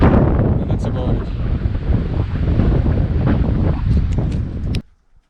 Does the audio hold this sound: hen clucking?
no